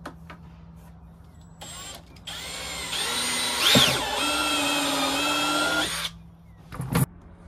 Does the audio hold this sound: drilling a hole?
yes